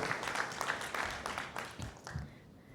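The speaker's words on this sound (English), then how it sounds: "let's give a round of applause for our panel and our moderator" An audience at a creative economy roundtable claps for the panel and moderator, a brief burst of fairly faint, mid-distance applause that tapers off after about two seconds.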